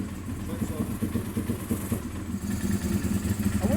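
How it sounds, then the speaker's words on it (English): A Honda RVF400 motorcycle engine runs unevenly near at hand, a low, chugging, clattery idle that pulses irregularly with a faint voice nearby. "Let's see if it will start on its own fuel supply."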